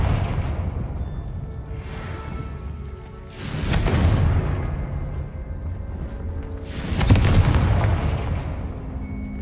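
A Confringo blasting spell fires in the video game Hogwarts Legacy, producing two loud, booming explosions a few seconds apart, each a sharp burst that fades into a broad rumbling tail over a steady low background.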